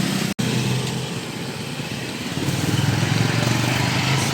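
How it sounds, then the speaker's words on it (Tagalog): Street traffic engines rumble close by in a busy Philippine roadway, a steady loud drone of motors with a brief dropout near the start. "Maraming traffic dito."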